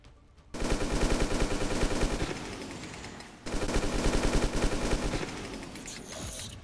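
Two long, loud bursts of automatic gunfire in XCOM 2, separated by a brief pause, with a shorter trailing burst at the end and no voices.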